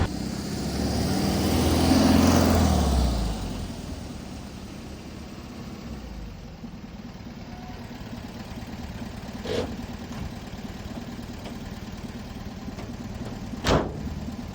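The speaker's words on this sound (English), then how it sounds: "In fourth gear, we hit the gas. No popping. 50 miles an hour." A 1966 VW Bus engine accelerates in fourth gear, a steady low drone that swells early and then holds, heard from inside the moving bus with a couple of faint knocks and no talking.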